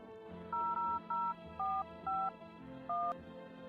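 Telephone keypad tones in the game Invite Them In, six short distinct beeps pressed in an uneven rhythm over a low background hum, quiet and without talk.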